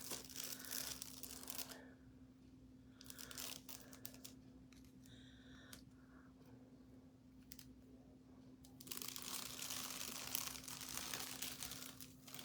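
A layer being peeled off a painted peppermint serving tray, with faint crinkly tearing and rustling in two stretches, one at the start and a longer one toward the end, over a low steady hum and no talking.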